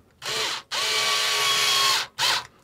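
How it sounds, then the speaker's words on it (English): A power screwdriver drives a screw into a motorhome roof light fixing, with three loud whirring bursts, a short one, a long steady run and a brief final burst, close by with no talk. "Just screw it in gently."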